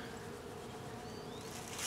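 Honeybees fly around a hive on a cool, cloudy day, making a steady, close buzzing drone with no break.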